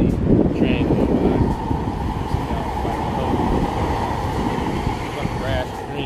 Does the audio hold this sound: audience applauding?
no